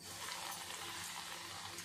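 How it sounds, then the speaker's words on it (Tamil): Chicken pieces frying in hot oil on high flame, a steady, dense sizzle and crackle, close and continuous, with no voices. "அடுத்து எண்ணெயில் போட்டு பொரிக்கலாம்."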